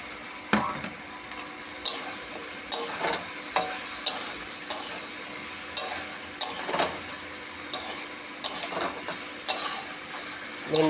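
Sliced okra fries in a pan with sautéed red lentils (masoor dal), a constant sizzle broken by rhythmic spatula scrapes and clinks about once a second, close and fairly loud, with no talking.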